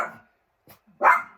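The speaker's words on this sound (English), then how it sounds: "My dogs are barking now." Dogs bark in short bursts, one quick yelp and then a louder bark, set against near silence.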